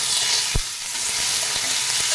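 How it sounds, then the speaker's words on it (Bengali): Chopped tomato goes into a pan of onion, ginger and garlic already frying in oil, a steady loud sizzle with a brief thump and faint stirring scrapes. "আদা রসুনটা পেঁয়াজের সাথে ভালো করে ভেজে নিয়েছি, এবারে কেটে রাখা টমেটো কুচি দিয়ে দেবো"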